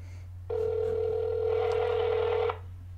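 A phone gives a single two-second ringback tone, clear and steady over a constant low electrical hum, with quiet around it.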